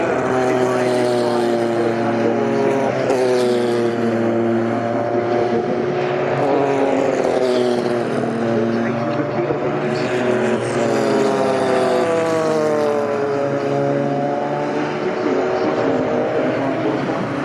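Porsche 956 and 962 endurance race cars run at Goodwood, loud engine notes droning and sweeping up and down in pitch as they pass close by for the whole stretch.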